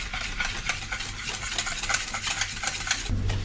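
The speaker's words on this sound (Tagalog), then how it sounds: "So, meron na tayo ditong milk and chocolate. Mix lang natin siya. Ngayon naman, i-whisk natin to." A whisk stirs a milk and chocolate mixture in a bowl with a continuous soft scraping and swishing, fairly close and steady, and no talking.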